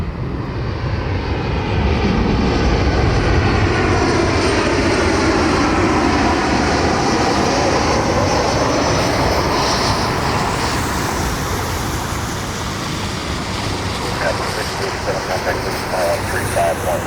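Southwest Airlines passenger jet arriving inbound from Chicago at Cleveland Hopkins airport during a thunderstorm, its engines roaring loud and steady throughout, with a low rumbling whine that shifts gradually as it passes.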